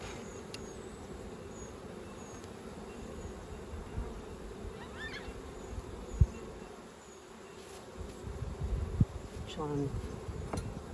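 Honeybees (Apis mellifera) hum steadily at an open hive during an autumn varroa check, a close, continuous drone with scattered louder passes of individual bees and brief words from a person nearby.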